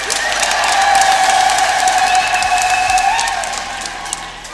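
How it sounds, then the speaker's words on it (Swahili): A church congregation bursts into loud applause mixed with high, trilling ululation, a steady wash of clapping and voices that swells and then gradually fades. "makofi na vigelegele kwake"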